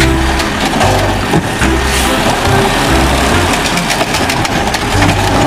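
A toy garbage truck gives off a loud, continuous engine-like rumble with rattly, choppy texture, running alone without talk for several seconds.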